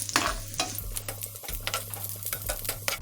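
Cashews and raisins fry in a pan of hot fat for a jaggery payasam, producing a close sizzle with brisk, repeated stirring scrapes and light clatter throughout.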